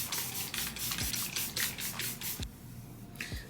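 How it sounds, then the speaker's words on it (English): Short bursts from a spray bottle misting water onto a braided wig, several quick hissing squirts in an uneven rhythm with brief pauses between them, close and fairly loud, no talking. "I'm just spraying a little bit of water in it"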